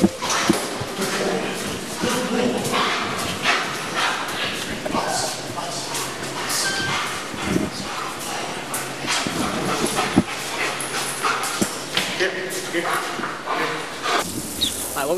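Police dogs in daytime kennels bark, whimper and yip almost continuously, fairly close and loud, with people talking among the noise.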